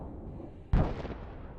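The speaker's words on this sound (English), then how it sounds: "The powerful explosion means that a large stock of Russian munitions was eliminated." A powerful explosion of a large Russian munitions stock hit by a Ukrainian kamikaze drone, a single sudden loud blast that rolls into a decaying rumble over low background noise.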